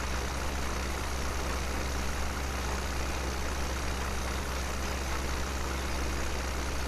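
Deutz tractor in Farming Simulator 17 laboring uphill with slight wheel slip, its low, heavy engine drone steady and continuous throughout, loud and close with no speech over it.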